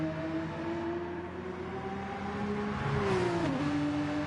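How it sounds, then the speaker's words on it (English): A Red Bull Porsche race car engine in a racing video game on the Trial Mountain circuit whines steadily at high revs, dropping in pitch through a corner before climbing again. "Master Chief, 1 corner to go in the Red Bull Porsche"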